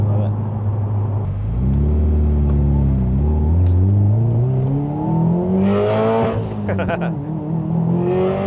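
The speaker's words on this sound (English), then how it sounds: "I kind of miss that sound, Del. That external wastegate sound." A Subaru STI with an external wastegate revs up, its engine note climbing in pitch and rumbling close by before a sharp fluttering wastegate chatter near the end; a voice briefly speaks.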